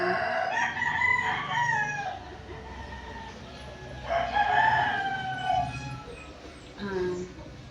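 Chickens and roosters kept at a house beside a road crow in several loud, drawn-out calls, with clucking and yard noise filling the gaps between them.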